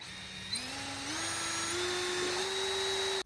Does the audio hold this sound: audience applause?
no